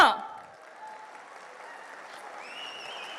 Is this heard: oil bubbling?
no